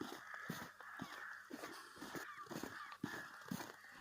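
Rooks caw over and over in early spring while fighting over nests in trees, their harsh calls overlapping at a moderate distance in a continuous chorus.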